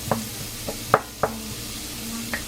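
Garlic and onion sauté in a pan for an ampalaya dish with a steady close sizzle, broken by a few sharp scrapes and taps from stirring, with no voices.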